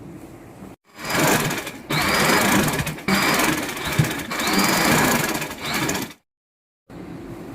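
A sewing machine stitches cord onto the gathered seams of a three-layer sharara, running in loud, steady bursts with brief pauses, then stopping for a short silence before a quieter stretch resumes.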